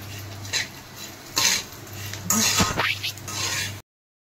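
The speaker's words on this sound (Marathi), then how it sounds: "मंद आचेवर एकदम असं हळूहळू हलवत राहायचं" A spoon scrapes and stirs a thick jaggery gul papdi mixture in a pan over a low flame, with several short close scraping strokes and clinks at an uneven pace.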